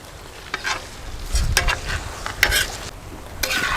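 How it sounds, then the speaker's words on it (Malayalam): Water is poured into chicken frying on a tawa, giving sudden bursts of loud sizzling and spitting, separated by stirring and scraping sounds. "അപ്പോൾ ഒരല്പം വെള്ളം ഇതിൽ ഒഴിച്ചു കൊടുക്കാം."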